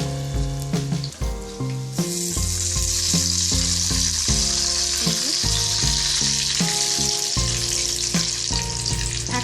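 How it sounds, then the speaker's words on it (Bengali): Hilsa fish frying in oil in a covered pan over a medium flame gives a steady, hissing sizzle that runs throughout, partly overlaid by tonal background music. "উল্টো পিঠটাও একইভাবে ভালোভাবে ভাজা হয়ে গেছে"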